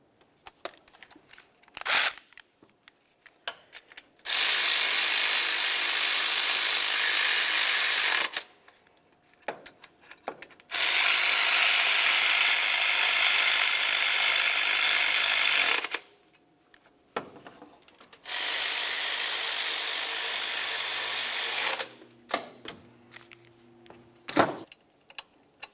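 Three bursts of rapid ratchet clicking, each lasting a few seconds with short pauses and small clanks between, as a ratchet tightens timing belt tensioner bolts on a 2011-2018 Volkswagen Jetta, close up in a quiet workspace.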